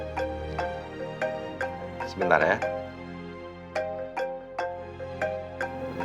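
A phone rings with an incoming call during an Indonesian TV drama, its melodic tone repeating steadily throughout while a person speaks briefly over it.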